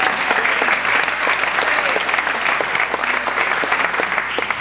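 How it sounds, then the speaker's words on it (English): A large theme-park show audience at Universal Studios Hollywood applauds steadily and loudly, dense clapping continuing throughout without a pause. "How about a round of applause for everybody here?"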